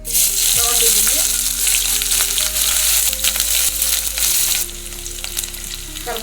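One large onion hits hot oil in a pressure cooker and crackles loudly, with repeated scraping and clinking strokes over a dense, close sizzle that drops a little toward the end.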